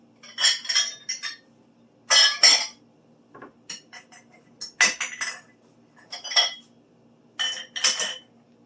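Dishes and cutlery are picked up and put away in a kitchen, making about six separate bursts of clinking and clattering with quiet gaps between them, close and clear.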